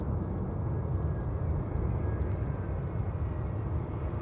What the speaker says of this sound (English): Lufthansa Flight 2304 arriving from Munich.